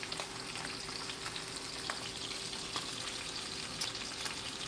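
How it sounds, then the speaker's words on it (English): Chicken pieces browning in hot bacon fat in a pan, a steady low crackling sizzle with scattered small pops, continuous and fairly quiet, with no talking. "I have bacon fat. It is getting hot. Now all these pieces go in. We're gonna brown them."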